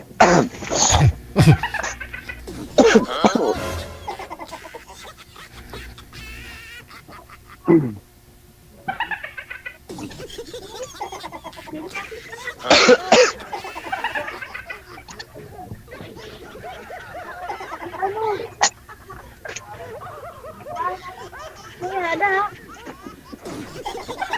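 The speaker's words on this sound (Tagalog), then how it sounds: "Saglit lang, ubo ako eh." A few sharp coughs break out early on, close and loud, followed by scattered throat noises and bursts of talking in a quiet room.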